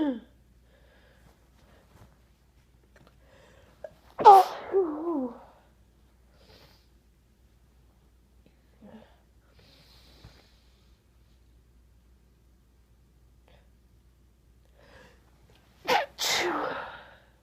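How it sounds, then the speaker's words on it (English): A single person sneezes twice, each a sharp isolated burst, one near the start and another late, separated by long quiet stretches with faint breaths and small sounds between. "I still have to sneeze."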